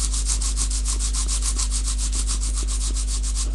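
A metal file rubbed with rapid, steady back-and-forth strokes over the copper-coated surface of an altered gift box, a close, continuous rasping scrape with a mains hum beneath and no talking.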